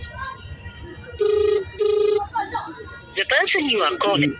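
A telephone rings unanswered in repeated bursts, a steady electronic trill sounding twice at close range, with people talking around and after the rings.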